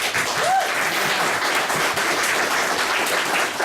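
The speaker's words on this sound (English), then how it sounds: "Give Sharon a round of applause." Wedding guests give a mother of the bride a round of applause during a speech, a steady, full burst of clapping filling the room at close range.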